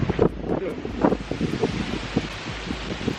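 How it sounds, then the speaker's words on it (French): Wind buffets the microphone outdoors in uneven rumbling gusts, with rustling noise rising and falling over a few seconds. "En plus il y a beaucoup de vent"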